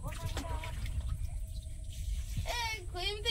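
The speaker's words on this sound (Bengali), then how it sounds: "ডালটা ধুয়ে নেব।" Mung dal lentils are rinsed in water, giving soft sloshing and splashing close by, while voices talk over the washing.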